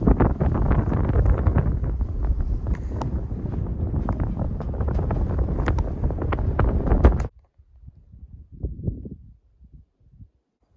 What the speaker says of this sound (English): Now the wind has picked up.